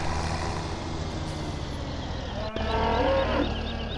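Cows moo on a farm in the video game Farming Simulator 17, one clear drawn-out moo rising over a steady background hum of machinery, close and fairly loud near the end.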